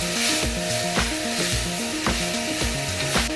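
Vegetables for chicken manchow soup cook in hot oil in a pan, giving a steady close sizzle with rhythmic scraping strokes of a spatula throughout, no voices.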